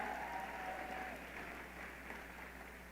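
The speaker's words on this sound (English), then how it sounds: "You can clap." An audience at a business school commencement claps steadily, a dense, soft wash of applause that holds evenly throughout.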